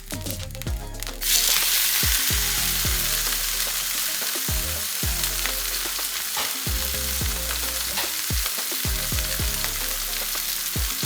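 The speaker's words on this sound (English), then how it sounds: "it's time to cook our rump steak now. I've heated the pan, added some oil." Rump steak sizzles and fries loudly in a hot oiled pan, a continuous crackling hiss with occasional sharper spits and pops, close up and alone without talk.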